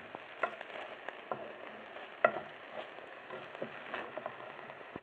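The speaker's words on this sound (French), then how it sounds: "j'ai mis le cumin, maintenant les fenouils. On va pas mettre beaucoup, on va remuer." Cumin and fennel seeds fry and are stirred in a pan, a soft steady sizzle broken by scattered scraping clicks and taps from the stirring, fairly quiet and close, with no talk.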